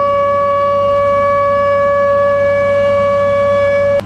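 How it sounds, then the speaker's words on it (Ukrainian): A loud, steady civil defense siren tone holds one pitch with ringing overtones, then cuts off abruptly near the end. No voices. "По всій країні завтра будуть звучати от такі звуки сирен."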